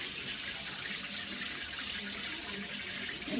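Water sprays and trickles steadily from a leaking Moen Ignite chrome hand-held shower head, a soft, continuous hiss at close range with no voices.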